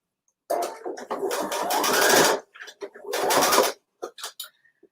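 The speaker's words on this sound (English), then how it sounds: "We're going to sew this all the way around." A sewing machine stitches fabric around a holiday sewing project, running in two sustained bursts of steady motor whir, then a few short taps.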